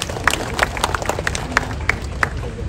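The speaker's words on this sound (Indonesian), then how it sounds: "Kita beri tepuk tangan kepada semuanya." Light, scattered clapping from a small audience at a Jakarta logo launch and gallery inauguration, individual claps distinct and uneven rather than a full ovation.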